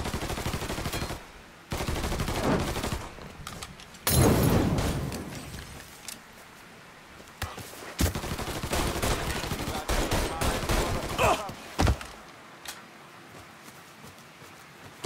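Gunfire in the video game Mafia III, with bursts of rapid shots and sharp single reports that come and go over a busy action background.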